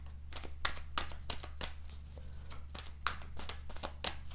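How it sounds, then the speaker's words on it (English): Tarot cards being shuffled by hand in a quiet room, a quick run of crisp riffling bursts and soft slaps repeating at an even pace, close and clear with no talk. "And two more shuffles."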